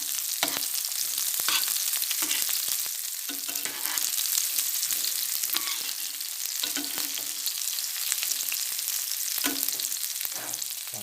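Ingredients sautéing in a pan until wilted, a soft continuous sizzle broken by repeated scraping stirs at an irregular rhythm, fairly quiet and with no talk.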